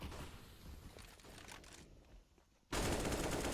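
Automatic gunfire in CS:GO during an IEM Sydney 2019 qualifier match, a fading volley giving way to a quiet pause before a sudden loud, close burst of rapid shots.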